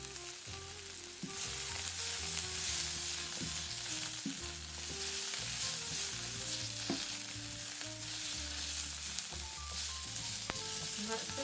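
Salmon fries in a pot, sizzling and crackling steadily up close, while the pot is shaken and the contents stirred, bringing soft scraping and clatter over the constant hiss.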